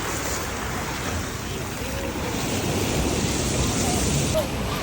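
Sea waves wash onto a beach in Naples, Italy, as a steady broadband roar mixed with wind noise, fairly close and even throughout.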